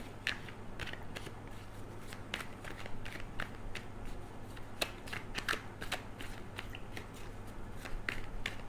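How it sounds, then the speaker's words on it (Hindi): Tarot cards being shuffled and drawn for a seven-card reading: a steady run of soft papery riffles and light snaps, close and quiet, with no voice over them. "लिब्रा के लिए 7 कार्ड्स ड्रॉ करूँगी अब मैं।"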